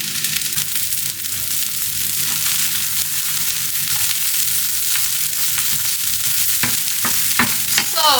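Rice stirred and turned as it fries in a pan, with a steady, loud sizzle and continuous scraping and stirring strokes that sharpen near the end.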